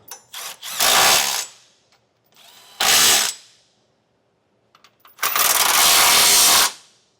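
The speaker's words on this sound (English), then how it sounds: "Now we'll snug all of our hardware down with a 19mm socket." A power tool drives a 19mm socket to snug hitch hardware on a 2019 Lexus RX 350, sounding in three whirring bursts, the last the longest, separated by quiet gaps, close and loud.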